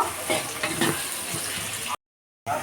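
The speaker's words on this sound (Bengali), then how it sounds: "পেঁয়াজটাকে আমরা হালকা নরম করে আগে ভেজে নেব" Chopped onion fries in hot oil in a pan for a Bengali koi fish curry, giving a steady, close, dense sizzle that cuts out briefly before resuming.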